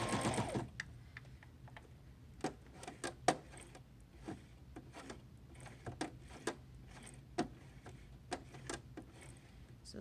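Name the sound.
sewing machine stitching a zipper pouch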